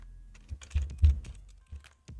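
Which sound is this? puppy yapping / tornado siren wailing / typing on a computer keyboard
typing on a computer keyboard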